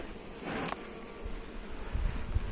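Bees buzz around a hive frame in a steady, close drone, with a brief louder buzz passing near the start and some faint handling thuds later on.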